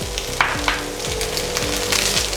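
Cashews, raisins and freshly grated coconut sizzle in hot ghee in a pan, a steady crackling fry with a low hum underneath and a few soft scraping stirs.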